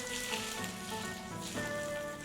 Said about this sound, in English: Finish with chopped scallions and the final drizzle of sizzling hot oil